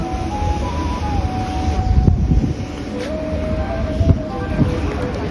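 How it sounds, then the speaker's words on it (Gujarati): A train arriving at a station rumbles steadily past at close range with a long tonal whine from the rails, broken by a few louder clanks. "તો ફાઇનલી આપણી ટ્રેન આવી ગઈ છે."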